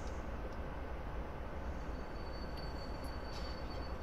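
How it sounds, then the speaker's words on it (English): A train rolls steadily past near a stopped train on the Miami to West Palm Beach line, a continuous loud rumble of wheels on rail with faint high squeals, and no talking. "We're just going to keep watching this train go by in the meantime."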